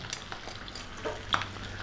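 Soft, steady sizzling of pork belly frying skin side down in oil, quiet and continuous with a faint crackle.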